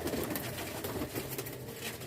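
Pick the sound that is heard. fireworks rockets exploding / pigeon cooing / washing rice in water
pigeon cooing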